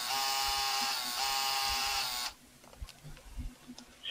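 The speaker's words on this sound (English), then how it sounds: "there is the Game Boy printer, so if you want to print the pictures" A Game Boy Printer prints a picture with a loud, steady electric buzzing whine for about two seconds, then stops abruptly, leaving faint handling clicks and quiet room noise.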